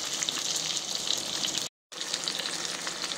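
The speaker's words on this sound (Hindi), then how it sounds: "अब मैं उसे दूसरी बार पलट रही हूँ और जहाँ शिमला मिर्ची कच्ची है उस तरफ उसको नीचे कर रही हूँ" Stuffed green bell peppers (bharwa shimla mirch) frying in a pan, a steady close sizzle that drops out briefly as they are turned over, then resumes at the same level; no talking.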